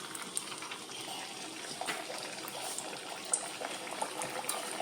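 Neypathal, a flat rice-flour bread, fries in hot coconut oil with a steady, close sizzle broken by scattered small pops and crackles, and no voices.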